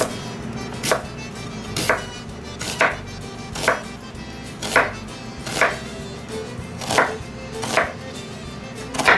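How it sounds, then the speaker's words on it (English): A knife makes small cuts through an onion on a board for Cajun gumbo, striking in a slow, even rhythm of about one sharp chop per second, close and clear with no talking. "Now what I do is I just make small cuts through the onion like this"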